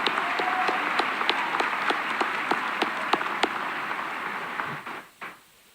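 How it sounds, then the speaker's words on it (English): Audience at a high school commencement applauds steadily with dense clapping and a few sharper claps, then the applause quickly dies away near the end. "Let's have another round of applause for our amazing valedictorians and salutatorians"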